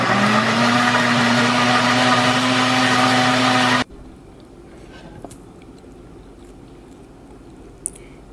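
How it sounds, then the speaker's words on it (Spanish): A kitchen blender whirs loudly and steadily while blending salsa macha ingredients, then cuts off abruptly after about four seconds, leaving quiet room noise with a couple of small clicks. "Vamos a licuar todo muy bien."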